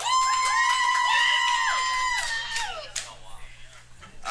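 A comedy show audience cheering, with whoops and shouts rising into a burst of crowd noise after a sustained tonal sound at the start, fairly close and lively.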